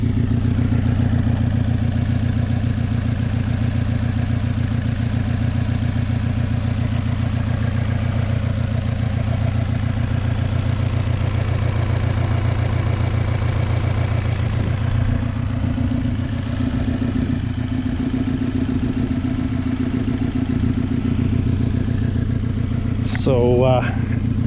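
A 2010 Chevrolet Aveo 5 hatchback engine runs steadily at idle with the hood open, a loud, close, even drone holding throughout, with a short burst of talk near the end.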